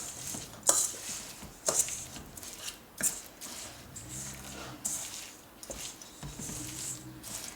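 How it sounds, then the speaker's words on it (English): Quick oats being stirred in a big bowl for healthy three-ingredient cookies, with repeated clinks and scrapes of a utensil against the bowl at an uneven rhythm, close and fairly quiet. "So I got this big bowl now. It's a lot easier to mix it."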